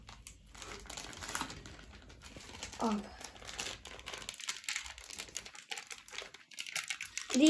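Plastic bag of supermarket starch crinkles and rustles steadily as it is emptied out, close and fairly quiet, with a brief spoken word partway through.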